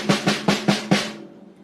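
A drum deadened by a wallet laid on its head gives five short, dull thuds in an even rhythm, each decaying quickly with little ring, close and alone.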